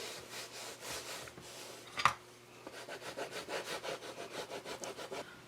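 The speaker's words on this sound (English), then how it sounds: "And then you're going to burnish it down well." A tool rubs back and forth across leather laid over upcycled denim on a tote bag, making steady rhythmic scraping strokes with one sharp knock partway through, close and alone.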